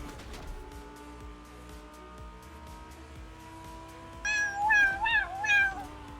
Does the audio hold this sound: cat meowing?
yes